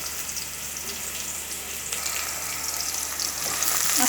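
Onions fry in a little oil in a pot, giving a steady close sizzle that swells slightly louder toward the end.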